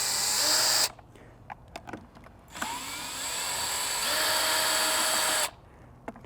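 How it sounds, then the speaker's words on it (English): Power drill with an extended Phillips bit loosening screws during maintenance of a Sony FX6 camera, two steady whirring bursts separated by quiet clicks, close and fairly loud. "we have our extended Phillips head, and we're just gonna pop that into our drill there"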